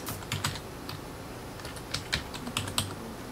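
Typing a folder name on a computer keyboard, bursts of quick key clicks in several short runs with pauses between, close and clear with no talking.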